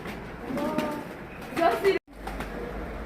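Soft coos from moulting Adana pigeons close by, a few low throaty calls mixed with people talking nearby, then a brief cut to quiet.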